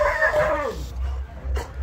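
Dogs at a dog temple in Arambol, Goa, with a short whining yelp up close followed by low rumbling ambience and faint movement, brief and fairly loud.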